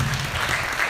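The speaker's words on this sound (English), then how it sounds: "Round of applause for Uncle Vin as well as Emily." Brief burst of audience applause at a livestreamed mental health panel event, a continuous patter of clapping lasting about a second at moderate volume.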